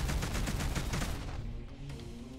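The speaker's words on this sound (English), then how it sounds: "I'm gonna use my rockets and stuff on you." Rapid bursts of rocket fire hit a warship in the space game Between The Stars, loud and crackling at first, then fading into a quieter rumble.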